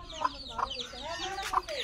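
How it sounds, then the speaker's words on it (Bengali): Young chickens in a village yard, a few short soft clucks and peeps spaced over about two seconds, close and fairly quiet. "এই হচ্ছে আমার মার মুরগির বাচ্চা।"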